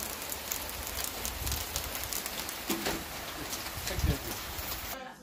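Rain falls steadily on outdoor surfaces during a barbecue, a dense hiss of patters with occasional louder drops and faint birdsong in the background.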